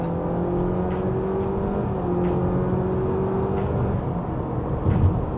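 Honda Civic RS e:HEV hybrid accelerating along an open stretch of road, a steady rising engine and motor whir with road noise, heard from inside the car and without talk.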